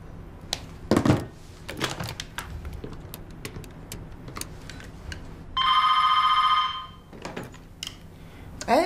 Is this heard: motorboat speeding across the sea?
no